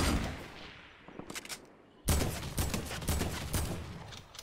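Heavy AK assault rifle fire in Fortnite: a few scattered shots come first, then a loud, sustained burst of rapid automatic gunfire that fills the rest of the moment.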